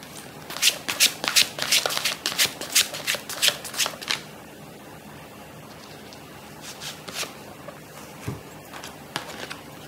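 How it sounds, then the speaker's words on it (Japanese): Playing cards shuffled by hand up close, a quick run of crisp riffling bursts for about four seconds, then a pause and a few softer, sparser card flicks. "シャッフルしましょう。"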